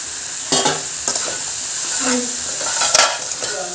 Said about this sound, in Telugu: కొంచెం సైజ్ అనేది వేడి నీళ్ళలో కడిగి పెట్టిన కాలీఫ్లవర్ కూడా వేసేసి కలిపేస్తాను